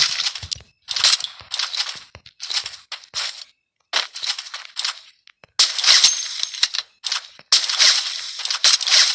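Sniper rifle fire in the video game Free Fire: a series of sharp, loud gunshot cracks and reload clatters in rapid bursts, separated by brief silent gaps.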